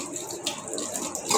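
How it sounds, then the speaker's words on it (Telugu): Water running from a household tap, a steady close hiss and splash lasting the whole moment with a brighter gush near the end, no talking over it. "నీళ్ళు అయిపోకూడదు, నీళ్ళు ఆఫ్ చేద్దాం."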